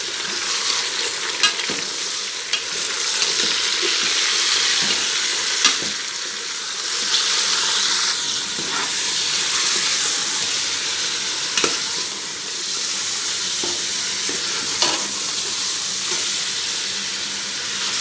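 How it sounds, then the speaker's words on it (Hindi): Steady, loud sizzling of mutton frying in a pan, with occasional stirring clatters and hissing steam throughout, no voices. "गोश्त ऐड करके इसको थोड़ी देर फ्राई कर लेते हैं।"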